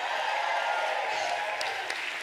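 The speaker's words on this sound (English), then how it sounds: "Do give an extra special round of applause to the production manager who created the track that you just heard." Applause from a theatre audience at a comedy cabaret show, a steady wash of clapping held at moderate level with a few sharper claps near the end.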